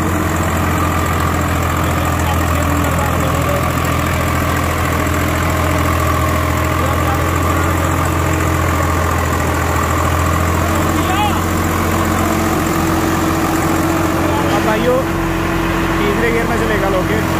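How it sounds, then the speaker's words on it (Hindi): A Swaraj 744XT tractor engine runs steadily in third gear, a loud continuous low diesel drone with constant vibration, close by and outdoors in a village setting. "अब चल रहा है लोके तीसरे गियर में।"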